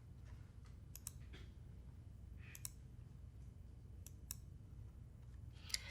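Computer mouse clicks while selecting permission checkboxes, a few sharp isolated clicks spaced apart, faint and close over quiet room noise.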